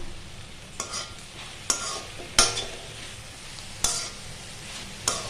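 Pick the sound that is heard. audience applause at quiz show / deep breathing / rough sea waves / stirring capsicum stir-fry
stirring capsicum stir-fry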